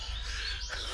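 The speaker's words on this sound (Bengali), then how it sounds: "মানে বাবা কি পাখি ডাকছে।" A bird calls outdoors in the Dooars countryside with a brief, high chirping note heard over steady background noise.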